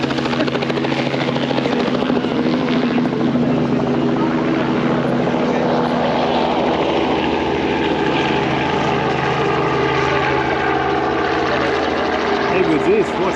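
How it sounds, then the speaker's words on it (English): A helicopter near the infinity pool at Lake Argyle, Western Australia, makes a steady, loud rotor drone that stays constant throughout, with people talking over it. "There goes the helicopter."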